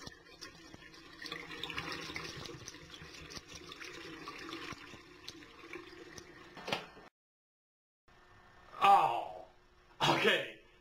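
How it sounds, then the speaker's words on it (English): Water poured out of a foil-wrapped water bottle, a light trickling and splashing stream that runs for several seconds before stopping, followed by brief louder sounds after a short silence. "Now all you have to do is pour the water out."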